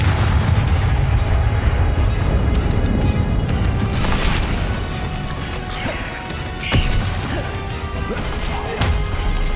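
Bombarda and Confringo spells in Hogwarts Legacy set off loud, crashing blasts and smashing impacts in a dense, continuous roar of combat, with a few sharper bangs standing out near the end.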